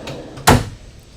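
An RV drawer in a 2026 Alliance Avenue 32RLS fifth wheel slides shut and snaps closed on its magnetic catch, one sharp close knock after a faint slide.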